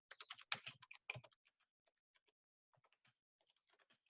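Quick bursts of keystrokes on a computer keyboard, a dense run of taps at first that thins into scattered, sparse clicks, close and quiet with no talking.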